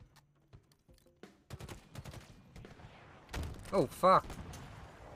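Enemy gunfire in the Halo Infinite campaign: scattered bursts and shots, strongest toward the end, mixed with game sounds while a player swears and talks over it.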